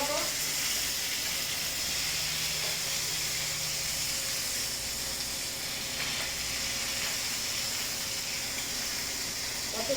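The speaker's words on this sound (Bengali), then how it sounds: "মাছ ভাজা হচ্ছে বন্ধুরা" Fish frying in a pan, heard as a steady broadband hiss and sizzle held at an even level for the whole stretch, close by, with faint background noise and no talk over it.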